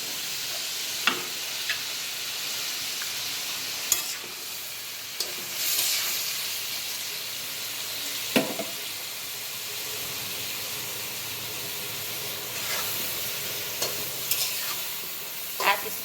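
Taro stolons sizzle and fry in a pan with a steady hiss, broken by occasional sharp scrapes and clinks of a spoon stirring, close and moderately loud with no talk.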